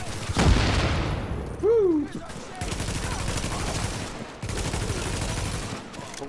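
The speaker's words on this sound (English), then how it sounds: "Look at my new pew pew gun." Video game gunfire from a newly acquired weapon in The Division, bursts of shots and booms mixed with game effects, while a player whoops and chatters over the action.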